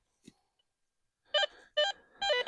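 Three short electronic tones from a metal detector sounding over a buried metal tobacco tin, the first tone brief and the next two held longer, loud and close with nothing else heard.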